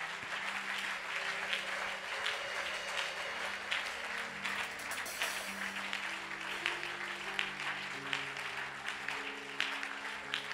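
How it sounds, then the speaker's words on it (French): Church congregation applauding steadily after a sermon, dense continuous clapping at moderate distance with a low music or organ drone underneath, no break for the full length. "Acclamez pour vous-même."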